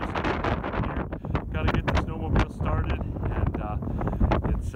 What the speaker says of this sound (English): Quite a little bit of a windy day today.